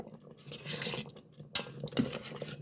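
A utensil stirring Hawaiian meatball sauce in a pan, producing close scraping and clinking strokes in an uneven rhythm with a soft simmer beneath.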